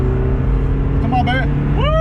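A 1999 Mazda Miata with a 5-speed manual accelerating hard from inside the cabin, its steady engine drone rising in pitch, while a voice talks briefly over it.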